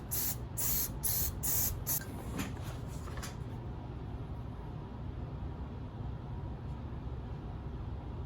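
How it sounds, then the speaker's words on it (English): Elmer's multi-purpose spray adhesive sprayed onto a wooden piece in a workshop, a few short hissing bursts in the first seconds, then a low steady background hum. "And all I do is I just kind of spray it onto the piece."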